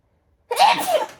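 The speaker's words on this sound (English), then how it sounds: "I'm going to sneeze again. They always come in twos." A single sharp sneeze bursts out after a half second of silence, close and loud, with a breathy tail fading out.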